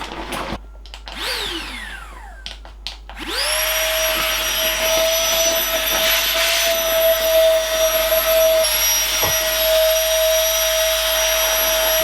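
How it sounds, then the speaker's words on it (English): A Flextail Tiny Pump starts up after a few handling clicks and whines loudly and steadily as it sucks the air out of a camping mat, holding a constant high-pitched motor tone. "Pumping the air out."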